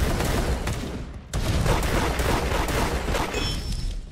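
Rapid gunfire from Da Hood, a dense continuous burst of shots that breaks off briefly near the middle, then resumes just as loud and sustained.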